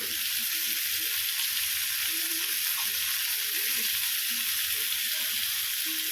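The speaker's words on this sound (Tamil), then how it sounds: "இது கூட நம்ம இஞ்சி பூண்டும் சேர்த்துக்கலாம். அதுவும் சேர்ந்து நல்லா வதங்கிடும்." Tomatoes sautéing with ginger and garlic in a pan for paneer butter masala, a steady loud sizzle of frying throughout with faint stirring underneath, close and continuous.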